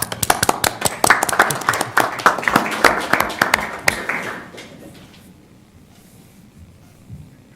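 Scattered applause from a small city council meeting audience: distinct, close hand claps for about four seconds that thin out and fade to quiet room noise.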